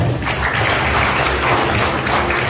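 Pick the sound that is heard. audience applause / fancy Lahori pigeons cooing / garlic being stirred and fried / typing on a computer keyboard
audience applause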